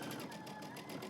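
A home sewing machine runs a fast, steady, even hum while it stitches a seam on a jumpsuit, close by and continuous.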